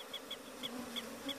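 Africanized killer bees buzzing in a swarm, a steady insect drone that swells briefly in several bursts as individual bees pass near, with no voices.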